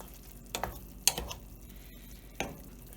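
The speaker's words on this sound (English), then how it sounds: "we are just going to mix this up together, and we're going to let it kind of simmer up" Food simmering in a pan is stirred and mixed with a utensil, giving a few distinct scraping clinks against the pan over a quiet low sizzle, with no one talking.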